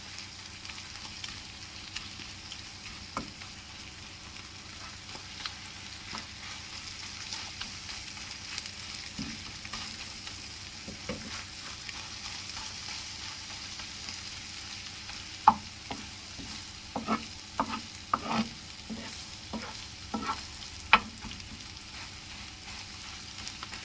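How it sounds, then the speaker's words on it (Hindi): Chopped onion and tomato frying in a pan for an egg omelette, a faint continuous sizzle with scattered soft stirring clicks that grow busier later on, no talking. "अच्छी तरह आप इन्हें भून लें, तकरीबन 4 से 5 मिनट तक अच्छी तरह हम भूनेंगे"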